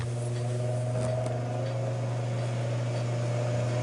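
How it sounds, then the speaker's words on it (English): A Ninja Foodi Deluxe multicooker running again after its lid is shut gives off a steady, even mechanical hum with a fan-like drone. The tone stays constant throughout. "we're going to go ahead and shut the lid back. And of course it starts back up cooking automatically"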